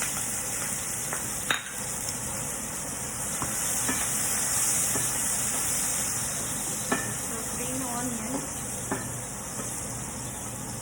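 Chopped green onion and hing frying in a pan, a steady bright sizzle with occasional clicks and a few soft taps of a utensil, moderately close and with no talking.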